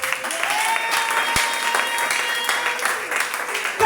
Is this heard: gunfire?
no